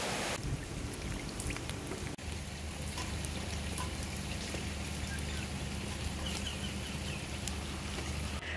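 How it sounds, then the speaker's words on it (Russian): Heavy rain pours down steadily in Israel, a fairly faint, even hiss of falling water that continues without a break. "Вот такой дождь у нас льется."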